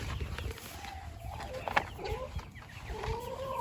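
Backyard hens clucking nearby with short rising calls and steady low scratching and shuffling through a garden coop setting, no talk.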